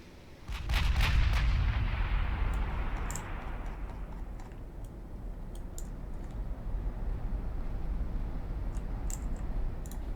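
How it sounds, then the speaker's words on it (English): Six-inch naval guns firing in the naval combat game Ultimate Admiral Dreadnoughts: a loud, heavy, booming blast with a long rumbling tail, followed by scattered faint distant reports and clicks. "There they go, the 6-inch guns."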